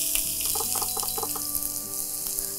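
Two medium chopped onions hit hot oil in a pan, giving a loud, steady hiss of frying that runs through the whole clip, with faint tonal sounds in the background.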